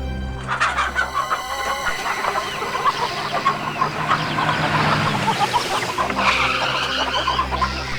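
Chickens at a poultry farm cluck and squawk in a dense, busy chorus. Many birds call over one another at close range, loud and continuous, with a low rumble in the background.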